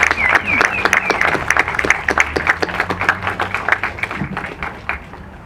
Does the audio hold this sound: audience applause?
yes